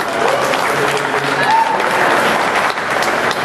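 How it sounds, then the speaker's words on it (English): A panel audience at a comics diversity event in New York claps, a sustained, fairly loud crowd applause with voices and a bit of cheering mixed in. "Y'all clapping"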